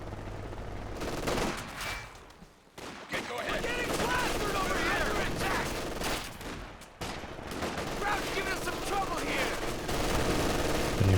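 MG42 machine gun fire in the Company of Heroes 2 strategy game, heard as sustained rattling bursts with other battle noise, dense and loud throughout, under a commentator's voice.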